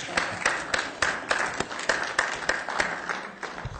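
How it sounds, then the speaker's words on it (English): A small room at a Loma Linda city council meeting breaks into applause, a modest group clapping with distinct, uneven hand claps rather than a dense roar, fairly close and steady throughout with no talk over it. "I think we need to give ourselves a round of applause."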